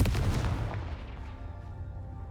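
A Confringo fire spell explodes in the video game Hogwarts Legacy, a single heavy boom with a crackling burst that rolls off into a fading rumble.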